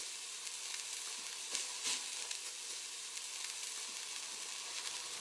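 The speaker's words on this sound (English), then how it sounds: "sear the meat on each side to a dark brown" Meat searing on a stovetop pan, a steady close hiss of sizzling fat with a couple of brief louder spits, no voices.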